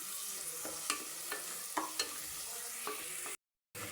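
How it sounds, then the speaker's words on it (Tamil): Spices tempering in hot oil for chicken biryani, a steady close sizzle with intermittent stirring clinks, ending in a brief silence. "சிக்கன் பிரியாணி தாளிச்சிட்ருக்கோம்"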